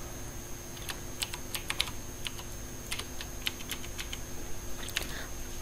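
A password being typed on a computer keyboard, with quiet, irregular clicks in small bursts separated by short pauses, and no talking.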